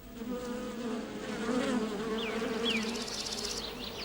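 A colony of paper wasps gives off a steady, dense buzzing hum, with individual wings whining louder now and then as wasps fly close past.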